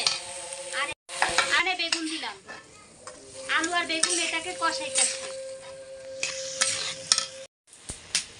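Potatoes stir-fried in a pan for a meatless vegetable dish, sizzling close by with stirring scrapes and brief pauses while a voice talks intermittently over the cooking.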